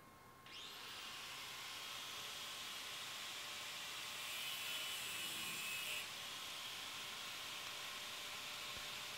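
Excess brass rod for a rivet on a forged Anglo-Saxon seax guard is cut with a steady, quiet, hissing saw stroke that continues for several seconds at close range.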